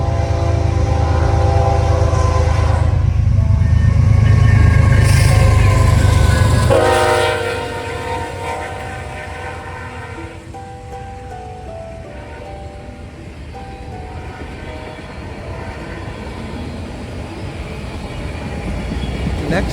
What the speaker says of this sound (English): what I assumed to be the BNSF H Bargal rolled through with an H1-9 trailing second